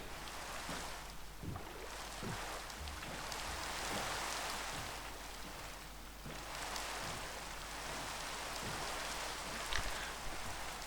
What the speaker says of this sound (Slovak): Super, začalo pršať.